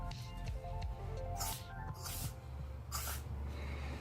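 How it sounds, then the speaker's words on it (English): Silicone spray hisses in several bursts, each lasting about half a second, while cleaning a Tokyo Marui Delta Elite airsoft pistol, over a steady low hum and faint mechanical background. "Silicone spray."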